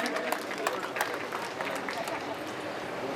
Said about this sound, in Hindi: एक बार आप सभी तालियों के साथ आपका स्वागत, अभिनंदन करें